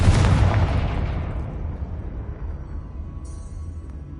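A fire-blast spell in Hogwarts Legacy erupts as a loud, close boom that rolls off into a long rumbling decay, with no voices present.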